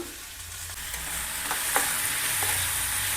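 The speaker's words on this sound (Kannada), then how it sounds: "ಟೊಮೊಟೊನೂ ಚೆನ್ನಾಗಿ ಫ್ರೈ ಆಗಬೇಕು ಸ್ವಲ್ಪ ಮೆತ್ತೆ ಆಗಬೇಕು ಅಲ್ಲಿ ತನಕ ಫ್ರೈ ಆಗಬೇಕು" Tomatoes frying in a pan for bende kayi huli, a Karnataka okra curry, giving a steady close hiss and sizzle with a few light stirring scrapes.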